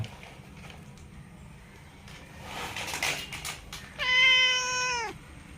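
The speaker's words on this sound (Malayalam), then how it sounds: "ക്യാറ്റ് ഫുഡ് വേണോ" A pet cat meows once, a single clear drawn-out call near the end, after soft rustling and handling noises in a quiet indoor room.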